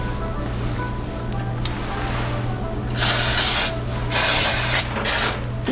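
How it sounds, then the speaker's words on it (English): Butter cooking spray hisses onto a hot waffle maker in three short bursts, loud and close, over a steady low kitchen hum. "now we spray with the butter spray"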